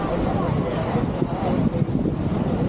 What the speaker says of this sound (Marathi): दूरवर पसरलेला समुद्र लाटा आणि त्याच्या खळखळ आवाजामुळे